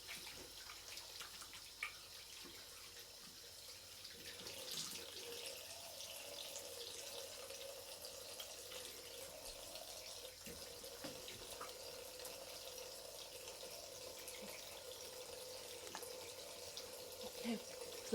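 A sink tap runs steadily throughout, a faint, even wash of water with a few small knocks and clinks over it.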